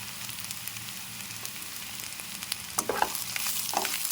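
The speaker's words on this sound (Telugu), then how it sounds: "ఇదంతా వేగాలండి ఈ కారము పసుపు ఉప్పు ఉల్లిపాయలు ఇవన్నీ వేగితే కారంలో ఉన్నది పసుపులో ఉన్న పచ్చి వాసన పోతుందండి" Onions fry in oil with chilli powder, turmeric and salt, giving a continuous sizzle. Clattering stir strokes build up toward the end.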